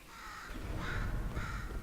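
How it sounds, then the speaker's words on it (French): Crow cawing inside the video game Portal 2, two drawn-out harsh caws close and fairly loud, with no talk over them. "Pourriez-vous tuer cet oiseau?"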